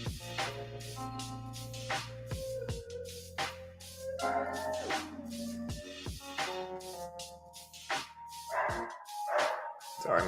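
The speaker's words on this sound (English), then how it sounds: "Sorry, my dog is barking." A dog barking indoors in a string of sharp barks and yips scattered across the stretch, fairly near, over a steady background hum with musical tones.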